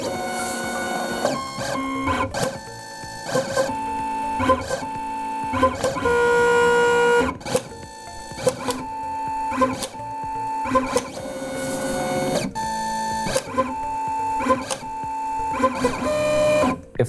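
A vinyl cutter's carriage scans contour registration marks, giving repeated motor whirs and beeping tones in a rhythmic stop-start pattern with short pauses and clicks, close and loud, with no talking.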